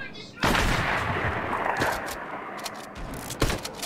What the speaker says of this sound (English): Somebody's trying to shoot at us.